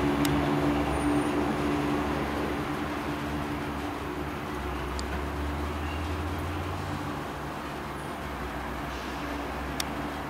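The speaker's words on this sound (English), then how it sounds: "Here's my train from Cardiff, headed at Sarn, and now it's heading off to my stage." A train pulls away from a station stop at Sarn near Cardiff, its steady low engine rumble and rolling noise holding at moderate level throughout, fairly close, with no talk over it.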